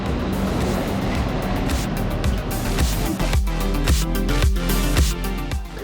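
Cars roll through narrow harbour-side streets in a Greek port town near the sea, a steady close traffic rumble broken by a few louder thumps and swells as vehicles pass.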